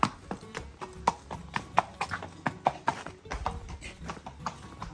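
A horse's hooves clip-clop on a farm in an irregular, steady series of sharp knocks, moderately close, with no talk over them.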